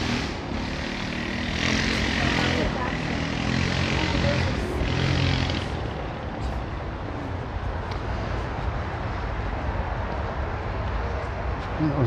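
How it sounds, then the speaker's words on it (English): A loud, rough-running scooter engine roars close by on a busy Miami street at night, rising and fading as it passes, with background voices and city noise underneath. "That scooter needs a tune-up."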